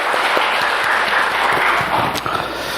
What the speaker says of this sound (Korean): 영광의 박수를 주님께 돌리십시다.